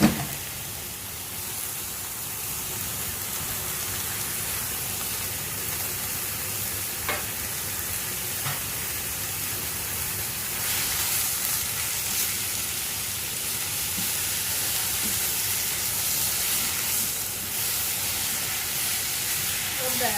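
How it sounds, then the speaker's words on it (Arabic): About 400 grams of ground meat goes into a pan of frying onions, giving a continuous soft sizzle and hiss that swells partway through, with faint stirring and some quiet talk nearby. "عندي هنا 400 جرام من اللحمه، بنزل بيهم على البصله بتاعتي."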